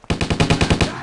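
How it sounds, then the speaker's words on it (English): Rapid burst of video-game automatic gunfire laying down cover fire in Stubbs the Zombie, about eight evenly spaced loud shots in one second, close and alone with no talk. "Laying down cover fire!"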